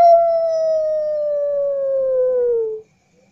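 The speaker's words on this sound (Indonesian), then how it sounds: "Ternyata suara itu adalah suara serigala yang mencari mangsa." A single wolf howls as a sound effect in a children's story about a brave rooster, one long sustained tone that slides slowly downward for nearly three seconds before cutting off into silence.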